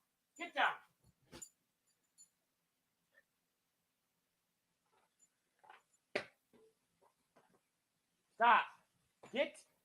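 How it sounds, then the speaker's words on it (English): An indoor dog lets out a few scattered barks and whimpers, with a sharp yelp near the start and louder cries toward the end, between quiet stretches and a person's brief talk. "Dog's freaking out here."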